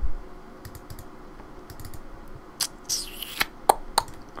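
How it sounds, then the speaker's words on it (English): Keys clatter on a computer keyboard in irregular bursts with a few sharper mouse clicks near the end, close and fairly quiet, during a Minecraft session. "if you can hear me using the keyboard or clicking and stuff"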